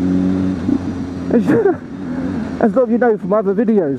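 A BMW S1000RR motorcycle engine humming along steadily beneath a rider talking close to the microphone, with wind buffeting over the drone.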